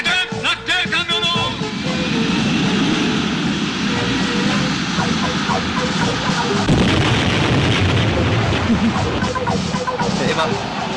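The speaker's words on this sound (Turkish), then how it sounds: "Avcı uçakları alçak uçuş!" Low-flying fighter jets roar overhead while strafing a transport truck, a loud sustained rushing engine roar with booming blasts throughout, dense and continuous with voices mixed into the din.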